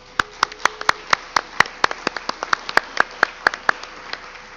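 Scattered clapping at a school sports assembly honoring district champions, sounding as a sparse, uneven series of distinct hand claps from a small group rather than a dense roar.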